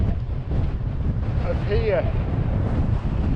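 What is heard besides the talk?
strong wind on a mountain in the Lake District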